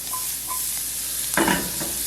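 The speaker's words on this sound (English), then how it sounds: "We're going to go asparagus in. Kind of give this a little mix around here." Asparagus sizzles in a hot pan and gets stirred around, with a steady frying hiss and a brief louder scraping stir near the end, close by and without any talk.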